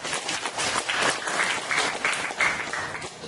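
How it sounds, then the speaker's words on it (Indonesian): Audience clapping during a product presentation in Indonesia, a lively wave of many hands that swells and dips in loudness, fairly close and unaccompanied by speech. "Tepuk tangan buat Bali dulu."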